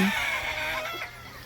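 Chickens at a poultry breeder farm cluck and crow nearby, a short burst of fowl calls standing out over steady farmyard background noise.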